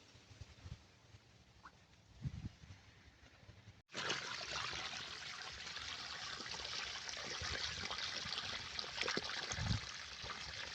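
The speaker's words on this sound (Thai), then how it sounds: "ตอนนี้ก็กำลัง ดูดน้ำออกนะครับ" Water siphoned by hose out of an earthen jar holding farmed catfish during a water change, draining onto nearby plants: a faint low trickle with soft knocks, then an abrupt shift to a steady, close, hissing rush of flowing water.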